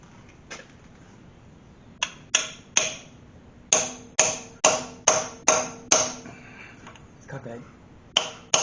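A pilot shaft bushing is hammered into place during a Chevy hemi engine and transmission install: about a dozen sharp metallic strikes, near and loud, some in quick pairs and a steady run of blows in the middle.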